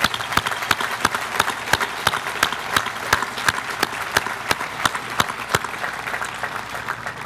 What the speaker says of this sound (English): would you join me in a round of applause to our military?